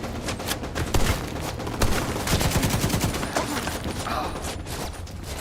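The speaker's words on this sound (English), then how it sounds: "There's a machine gunner." A machine gunner fires in the video game The Division 2, sending rapid, continuous bursts of loud automatic gunfire with sharp close cracks.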